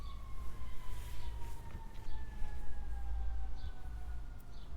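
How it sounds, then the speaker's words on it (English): A siren wails steadily in the distance, its tone gliding slowly, over a low rumble of city traffic noise. "I'm hearing a lot of sirens today."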